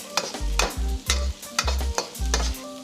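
Carrots and mixed vegetables for chicken chow mein are stir-fried in a hot pan, giving repeated rhythmic scraping strokes about every half second over a steady sizzle, close and fairly loud, with no talking.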